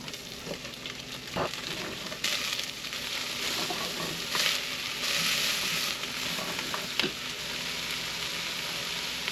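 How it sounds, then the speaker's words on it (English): Vegetables sautéing in oil in a pot as the first step of venison bone stock, with a close, continuous hissing sizzle that swells at times and occasional knocks and scrapes of stirring, and no talking. "and saute these vegetables."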